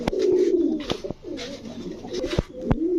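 Pigeons at a Bangladeshi pigeon farm give repeated low, throaty coos close by, broken by a few sharp clicks or knocks, with no clear talking.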